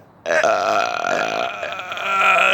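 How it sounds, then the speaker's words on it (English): A long, loud, close-up burp from a parent in a dark room, one continuous croaking belch that runs the full length without pause. "You want to burp with me?"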